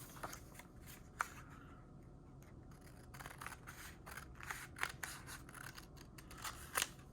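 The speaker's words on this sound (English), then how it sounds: "Sometimes I cut all the way down like that just to make sure that I have some space to get into my next cut" Scissors snip through paper while popsicle shapes are cut out, giving quiet, close, irregular crisp snips and rustles with brief pauses between cuts.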